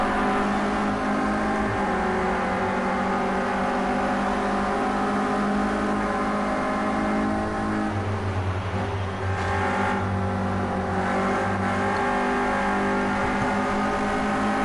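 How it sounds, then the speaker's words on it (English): Engine of a Renault Clio Cup race car at Brands Hatch in the racing game Project Cars 2, a continuous loud droning whine at full throttle, rising slightly in pitch down the straight. "Let's give you a bit of sense of the engine noise here down the Brabham straight."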